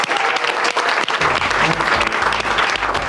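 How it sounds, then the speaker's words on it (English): A gathering of couples at the end of a cross-America road trip gives itself a big round of applause: dense, lively clapping throughout, with a low rumble joining partway through. "we all should give ourselves a big round of applause"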